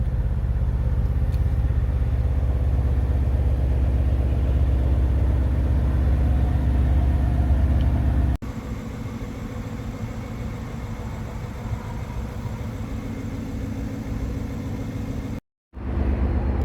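A 2026 Porsche Cayenne GTS exhaust, steady deep rumble held for several seconds, then a lighter, quieter drone before a short cutoff and resumption, recorded close with no talking.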